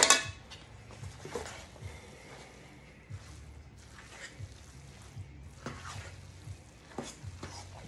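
Rice being stirred into boudin filling in a pot or bowl, giving soft, steady mixing and scraping sounds with a few light clinks of a utensil, alone and fairly quiet.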